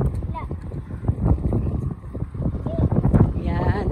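Gusts of wind buffet the microphone with a low, rumbling roar while people talk over it.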